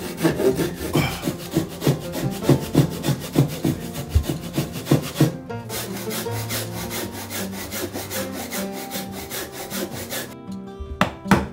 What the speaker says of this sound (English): Just notch the floorboard thickness of the pillar and join it.